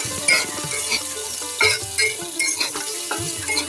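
Small potatoes fry in a pan for mashed potato bharta, a steady sizzle with intermittent scraping and stirring clatter, close and fairly loud with no talking.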